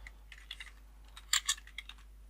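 Computer keyboard typing in short, uneven bursts of close, quiet key clicks, with a denser cluster of louder taps in the middle, heard alone with no voices.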